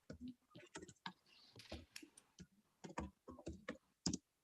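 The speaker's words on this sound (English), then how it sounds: "So let's type something." Typing on a computer keyboard in an office document editor, quick bursts of crisp key clicks in an uneven rhythm, close and quiet, no talking.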